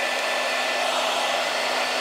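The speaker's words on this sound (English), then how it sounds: "Now one more setting on this hairdryer, putting it up to maximum heat." A hair dryer set to maximum heat, powered by a BLUETTI AC200P portable power station, runs with a steady, loud, unbroken rushing whoosh of air close by.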